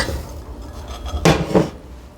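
Miniature marshmallows stirred into hot fudge mixture in a pot, with a spoon scraping and knocking against the pot in two distinct bursts over a low background hum.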